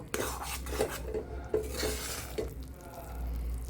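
Pumpkin halwa is stirred in a pan over low heat, with a spoon scraping and knocking against the metal in an uneven rhythm, close and clear, over a faint background sizzle.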